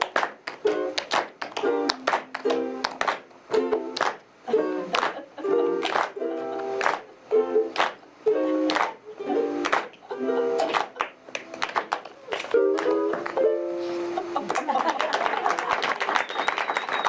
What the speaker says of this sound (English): Clap for me a little bit.